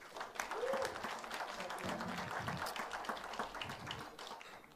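Audience applause fills a jazz club at Birdland Theater during a Frank Catalano Quartet set, steady dense clapping throughout with a brief voice or whoop and some crowd murmur mixed in.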